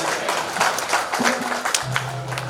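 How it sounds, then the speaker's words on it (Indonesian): Short burst of clapping from a church congregation at an anniversary auction and building blessing, heard after a gong is struck. Voices and a low hum sound under the applause. "Tepuk tangan"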